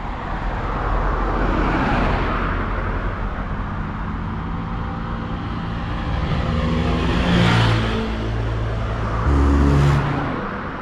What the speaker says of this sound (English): it's 1 minute it's slow traffic, next minute it's fast stuff